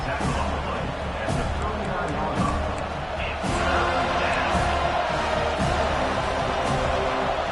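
A football stadium crowd roars behind the defense on third down, a dense, sustained wall of cheering and hubbub that swells slightly midway, with scattered shouts and thuds.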